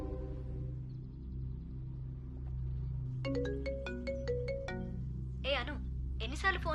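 A mobile phone ringtone plays as a bright melodic chime, repeating notes that rise over a low steady hum, fairly faint with no speech, during a dramatic film scene.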